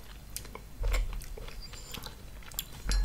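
Close-up chewing of miang kham, a Thai wrap of wild betel leaf with herbs and tamarind-sugar sauce, with crisp crunchy bites and wet mastication sounds that come in uneven bursts, loud and without talk.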